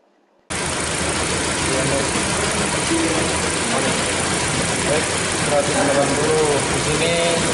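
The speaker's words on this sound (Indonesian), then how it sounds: "Mesin dihidupkan." A car engine turns over and settles into a steady idle during car air-conditioning maintenance. It starts abruptly and then runs as a loud, even, broadband hum for several seconds, with faint voices in the background.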